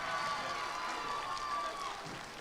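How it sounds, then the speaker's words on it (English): A robotics competition crowd applauds and cheers after a match, a steady wash of clapping and shouting from many people in a large venue, with some children's voices in the mix. "one more huge round of applause for all of our teams"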